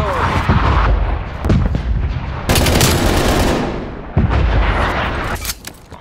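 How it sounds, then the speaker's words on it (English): An incoming artillery strike in a Call of Duty match: heavy booming blasts and rolling gunfire, loud and near, with sharp bursts at intervals and voices underneath. "Incoming artillery."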